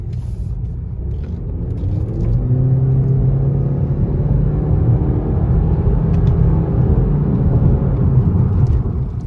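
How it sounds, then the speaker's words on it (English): A 2019 Honda Accord in sport mode accelerates hard from 0 to 60, its loud steady engine rumble and road drone rising in pitch through the run, heard from inside the cabin with no talking. "So that was a 0 to 60 pull."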